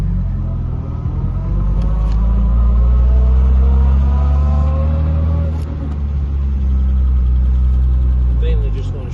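A 1963 Jaguar XKE roadster on the move gives a loud, steady low engine rumble with shifting tones as it revs, mixed with wind buffeting across the microphone.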